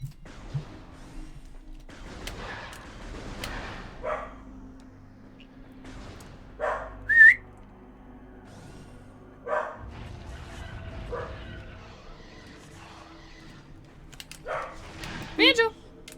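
Small pet puppy named Banjo giving scattered yips and barks, some whimpering, at moderate distance in a quiet room, interspersed with someone talking.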